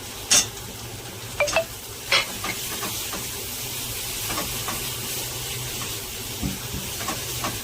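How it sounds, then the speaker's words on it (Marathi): Red chili powder, goda masala and coriander powder sauté in a pan for a spicy curry, with a continuous frying sizzle and sharp spoon clinks and scrapes near the start, then gentler stirring. "आपल्याला चांगलं परतून घ्यायचं आहे"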